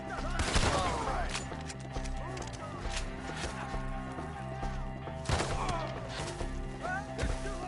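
Gunfire crackles in a Red Dead game battle, sharp shots and bursts scattered over clopping horse hooves and music, with excited voices shouting throughout.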